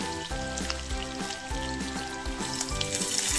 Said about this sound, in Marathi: कढीपत्ता, यांना छान फ्राय करून घेऊ।